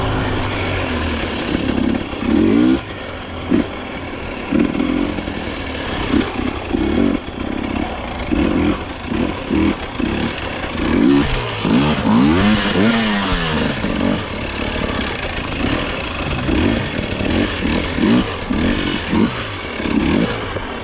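A KTM dirt bike engine on a hard enduro track at Kinglake, Victoria, revs in repeated sharp bursts and throttle blips, rising and falling close up as the rider works through rough terrain.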